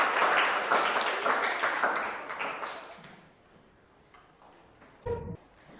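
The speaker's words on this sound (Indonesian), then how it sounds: "Tepuk tangan anak." Children applaud in a classroom, a dense burst of clapping that fades over a few seconds, then quiet room tone with a few stray taps and a brief thump.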